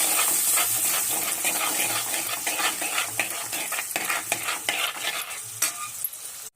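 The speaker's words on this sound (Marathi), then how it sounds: "ही एक वाटी दही आणि बारीक गॅसवरच ह्याला आपल्याला मिक्स करून घ्यायचं" A bowl of yogurt is stirred into a sizzling cauliflower masala over a low flame, with repeated wet scraping strokes of a spoon against the pan over a soft, steady fry, with no talking.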